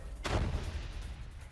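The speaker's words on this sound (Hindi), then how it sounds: "जेनिन में फायरिंग" A single gunshot rings out during an IDF military operation in Jenin in the West Bank. The heavy report thuds out and then decays into a rumbling echo that lingers for a second.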